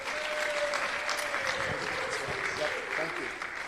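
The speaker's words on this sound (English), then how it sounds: "big round of applause for Kevin." Sustained applause from an audience at a plastic-free world gala and awards show, steady and fairly loud throughout, with a voice speaking faintly underneath.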